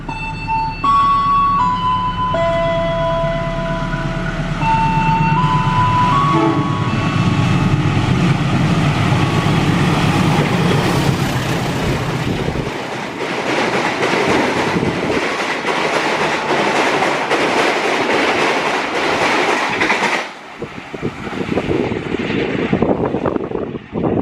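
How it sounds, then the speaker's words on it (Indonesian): Dharma Wangsa 166 passenger train rolling past Klari station, a long steady roar with rail clatter building and fading over about twenty seconds, close and loud, a brief horn-like tone early on. "Lalu kereta api Dharma Wangsa 166."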